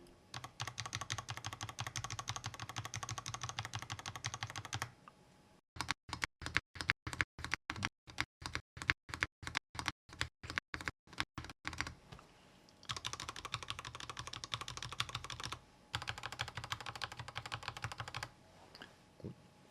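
Keystrokes on a Redragon A1 mini mechanical keyboard during a stabilizer test: bursts of rapid, continuous typing alternate with a run of evenly spaced single presses, crisp and close, with no talk.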